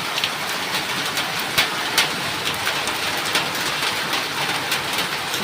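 Heavy rain pours outside an open window at night, a steady dense hiss with scattered louder splashes and patters throughout, close and continuous with no talk.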